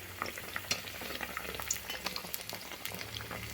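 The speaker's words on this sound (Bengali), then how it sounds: "আর এই সময় গ্যাসের আঁচটা আমি লো ফ্লেমে রেখে পিঠাগুলো ভাজবো" Pitha made from semolina and nut batter fries in oil over a low flame, giving a quiet, continuous bubbling crackle with small pops and light stirring.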